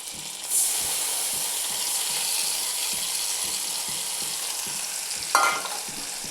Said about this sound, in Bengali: মশলাটা আগে সুন্দর করে ভেজে নিচ্ছি।